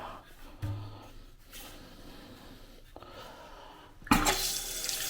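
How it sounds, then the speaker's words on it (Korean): Water gushes from a newly installed bathroom sink faucet once the closed angle valve is reopened: a quiet lead-in of faint handling noises, then a loud, steady broadband rush for the final second. "물이 잘 나오네요"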